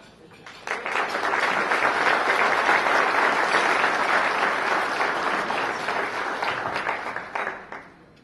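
Audience applause welcoming keynote speaker Peter High at the TechFuse 2012 conference, swelling quickly into sustained, dense clapping from a large crowd, holding steady for several seconds before tapering off.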